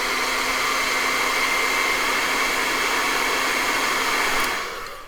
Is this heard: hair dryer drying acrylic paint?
yes